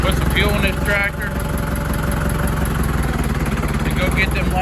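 A tractor engine runs steadily on a farm during hay work, a close, continuous mid-range drone with a faint whine, holding a constant rhythm through the short stretch.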